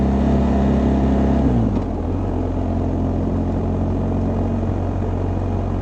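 A motorbike engine runs steadily under a rider with a stiff, poorly adjusted clutch on a back road in West Virginia, humming low and close, then shifting down in pitch partway through as the rider changes gear.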